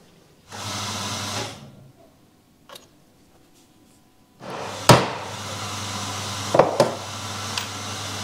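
A drill bores a 5mm hole in a steel throttle return spring, running in two separate bursts of steady whine, with sharp clanks and ticks as the bit bites and the work shifts.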